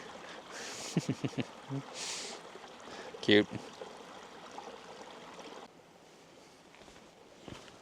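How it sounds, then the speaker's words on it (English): Small waterfall in Zion National Park in winter, a steady bubbling, churning rush of water running throughout, with a pine cone caught in the bubbles, a few brief clicks and a short spoken word over it. "there's this pine cone just stuck in this endless loop of bubbles in this little waterfall"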